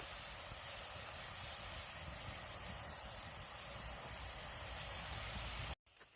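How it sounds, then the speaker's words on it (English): Water boiling in a pot over a campfire outdoors, a steady close hiss and bubbling roar that runs unbroken before cutting off abruptly near the end. "I just moved it a little bit, and now the whole thing is boiling"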